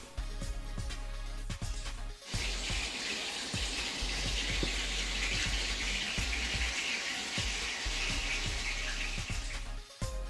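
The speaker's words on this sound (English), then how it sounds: "Get rid of the brine which contains all that toxic residue." Brine from a pot of cooked cassava poured away, a steady close gush of water running for several seconds, starting and stopping abruptly, with no talking.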